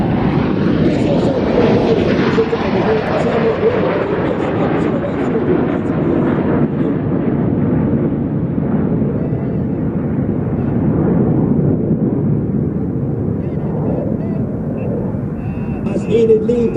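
Red Arrows display jets roar overhead in a loud, continuous broadband rush that slowly shifts in pitch as they pass, with no talk over it.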